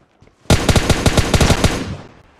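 Rapid burst of automatic gunfire in the battle royale game PUBG, played on an emulator: about a dozen sharp, evenly spaced shots in quick succession, loud and close, fading off at the end with no talk.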